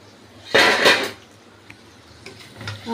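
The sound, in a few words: lid being taken off a cooking pot of mutton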